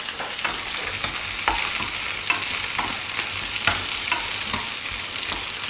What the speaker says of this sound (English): Just need a spoon for the peppers. They're just starting to sizzle.